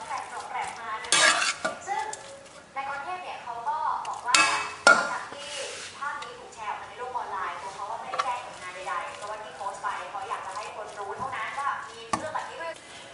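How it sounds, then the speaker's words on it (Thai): Curry paste being stir-fried with pork in a pot for a Thai pumpkin curry, with repeated scraping and clinking of a utensil against metal and light sizzling, while someone talks over it. "ผัดหรือว่ารวนเขากับเนื้อหมูเลยนะคะ"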